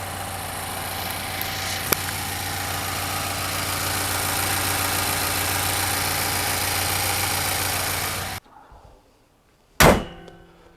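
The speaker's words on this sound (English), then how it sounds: "This is what your motor should sound like." A 5.6L V8 engine in a 2017+ Nissan Titan Pro-4X pickup idles steadily with a constant low rumble for several seconds, then cuts off, followed by a brief thump near the end.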